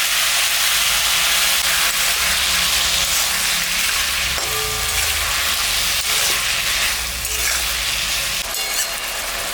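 Steady, loud sizzling and crackling of ginger, cumin and green chili paste frying in a hot pan, continuous throughout with faint clinks and no talking.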